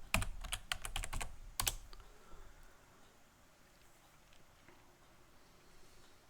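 A computer keyboard being typed on while entering a password during a network install: a close burst of rapid clicking keystrokes in the first two seconds, then quiet.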